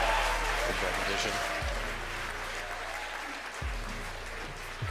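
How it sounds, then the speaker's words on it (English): A crowd at SpaceX headquarters in Hawthorne, California claps and cheers steadily at rocket stage separation while a voice talks over the applause, which fades slightly toward the end. "you hear the applause here from SpaceX headquarters in Hawthorne, California"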